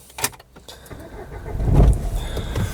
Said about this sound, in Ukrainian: Ключ-карта сюди у нас вставляється і заводимо.